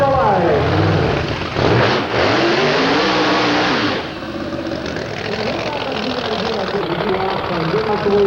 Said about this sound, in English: Here it comes with the burnout.